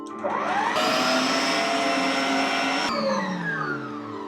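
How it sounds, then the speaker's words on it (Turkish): A close, loud electric hand mixer whirs steadily while beating orange cake batter with flour, its pitch shifting up and down as the speed changes. "Şimdi ise bütün bunları blenderdan geçireceğiz. Pardon mikserden."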